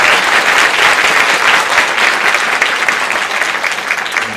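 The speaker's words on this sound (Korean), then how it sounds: "박수 한번." Congregation applause at a Korean church service on Mission Sunday: steady, dense clapping from many hands, loud and sustained throughout with no pauses.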